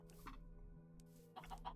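Chickens clucking in a crafting video game, a steady hum of soft fowl clucks with a couple of louder bursts, close by and without speech.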